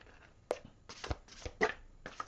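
Angel cards are shuffled nearby in a few soft, separate riffles and snaps, quiet and brief with short pauses between them.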